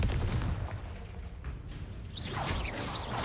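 Bombarda and Confringo spell blasts in the Hogwarts Legacy video game: a couple of sharp, punchy bursts with whooshing tails, the second bright and crackling, over a busy low rumble of game sound.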